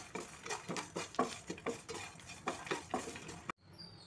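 Sesame seeds and jowar flakes dry-frying on low heat in a pan, stirred with a rapid rhythmic scraping of a spoon against the pan, close and fairly faint, stopping abruptly near the end.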